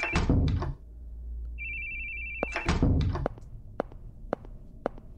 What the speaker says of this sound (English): Again, we hear the phone ringing